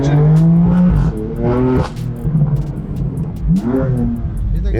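A BMW M2 daily driver accelerates hard, its engine revving loudly up through rising sweeps with gear changes, heard close from inside the car, with a brief word spoken.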